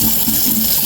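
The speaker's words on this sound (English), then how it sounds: "we have that drain running again, which is good" Water draining from a kitchen sink after a clog is cleared, a short burst of steady rushing and gurgling, close and fairly loud.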